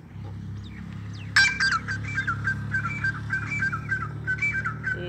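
A gray francolin (Sindhi teetar) calls loudly and close by, repeating a series of shrill, whistled phrases in a steady rhythm over a low background hum, with no speech.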